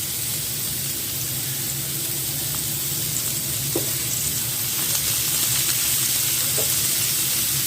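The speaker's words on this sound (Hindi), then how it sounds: "इसकी साइड चेंज कर करके इसे हम पका लेंगे।" Chicken shish taouk skewers grilling in a pan give a steady, loud, unbroken sizzle, with a few faint clicks from turning the meat.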